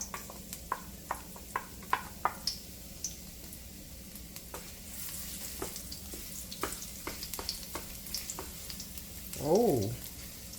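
Garlic frying in a pan for a Jamaican turkey patty filling, giving a soft, steady sizzle with scattered pops and light ticks, and a short stirring swoosh near the end; no talking.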